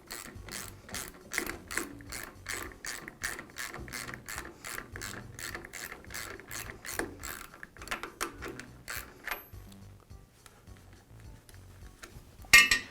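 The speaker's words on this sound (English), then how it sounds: "Every so often, I'll go ahead and tighten up the nut so that the spring won't come free from the housing." Steady ratcheting clicks come from tightening a nut on the spring housing of a Jet drill press, evenly spaced and close, fading into quieter scattered clicks toward the end with a brief louder knock.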